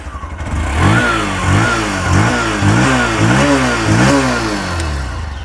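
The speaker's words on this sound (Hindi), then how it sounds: "प्लेटिना का साउंड कुछ ऐसा है।" A Bajaj Platina commuter motorcycle idles close by. Its engine hums steadily and is blipped into several short, even revs that rise and fall in a regular rhythm.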